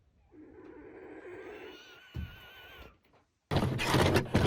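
Baby buzzards give strange wavering, hissing and whining calls up close, a sustained odd cry followed by a brief thump and then a burst of harsh, breathy hissing.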